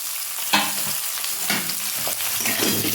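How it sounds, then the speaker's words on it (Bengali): Papaya, drumsticks, green bananas and sweet potato frying in a pan for a fish shukto, a loud close sizzle broken by spatula stirring and scraping, no voices. "সবজিগুলো একটু ভেজে নেব"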